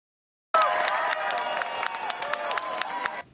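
A crowd of Taiwanese fans at a Little League World Series game in Williamsport cheers and applauds loudly. The dense roar of voices and clapping starts abruptly and holds steady for about three seconds.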